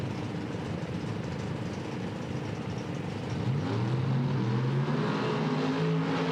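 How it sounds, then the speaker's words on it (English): Drag-racing cars doing burnouts at a PDRA event, among them a Camaro with a 598 big-block engine: a continuous, fairly distant engine roar that swells louder about halfway through, with rising, revving tones layered on top. "Burnouts underway."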